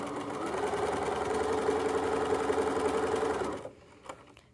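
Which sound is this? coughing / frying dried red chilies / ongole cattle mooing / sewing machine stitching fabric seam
sewing machine stitching fabric seam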